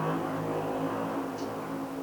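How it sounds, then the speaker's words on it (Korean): A loud motorcycle engine drones steadily outside, a continuous low rumble with a constant pitch that holds throughout. "시끄러운 저 오토바이."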